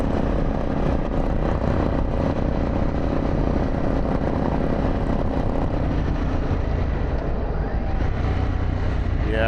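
A Harley-Davidson adventure motorcycle rumbles at highway speed on a road trip near Shenandoah, its exhaust a continuous loud drone mixed with heavy wind roar throughout.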